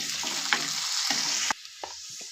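Chopped onions and two bay leaves hitting hot oil in a pan: a loud, hissing sizzle with a few crackles that suddenly falls to a much quieter simmer partway through; no speech.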